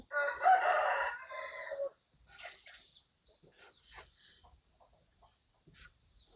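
Rooster crowing at a Thai temple setting where a fortune-telling chicken pecks numbers, one loud crow at the start followed by quieter clucks and scattered small sounds, with no speech.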